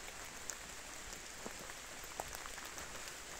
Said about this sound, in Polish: Więc cały czas pada.